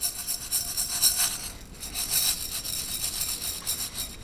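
Empty ammunition cases rattle and rub together as they are shaken back and forth in a tray, a rhythmic metallic shuffling in repeated bursts with no voices.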